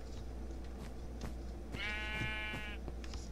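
Sheep bleat inside a sheep room in a video game, one clear, drawn-out bleat rising over a steady background hum, with soft clicks scattered throughout.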